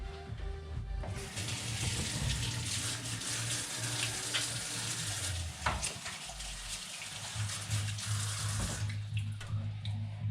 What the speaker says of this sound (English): We're going to do that after I wash my hands, though